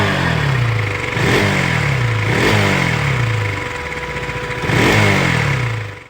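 A KTM motorcycle engine runs nearby, idling with a rough rumble and revved up in three quick bursts that rise and fall.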